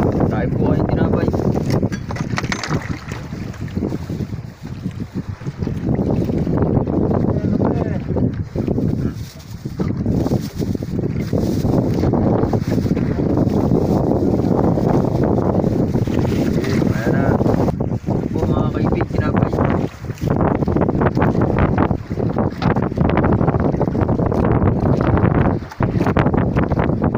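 Strong monsoon wind and waves batter a small fishing boat at sea in the middle of the night, a loud continuous roar of gusts and sloshing water buffeting the microphone, with a voice speaking over it.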